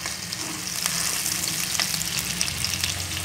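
Large-cut onions and capsicum sauté for chilli chicken in a pan, with a dense, steady frying sizzle throughout and faint stirring clicks, close and even.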